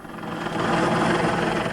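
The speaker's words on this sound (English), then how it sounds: "Rescue helicopter circled above." Rescue helicopter circling overhead during a police manhunt, its rotor and engine a steady, loud, broadband roar that swells slightly, with no voices.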